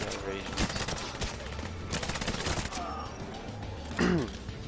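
Video game gunfire from the James Bond shooter 007 Legends, with rapid bursts and single shots cracking repeatedly over a dense, loud battle soundtrack.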